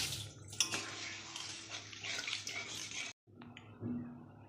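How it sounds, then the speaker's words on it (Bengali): Water poured into a pan of cooking fish curry masala, a pabda fish jhal, gives a steady broadband splashing and sizzling hiss for about three seconds, breaks off briefly, then resumes more softly. "এবার আমি জল ঢেলে দেবো পরিমাণ মতন"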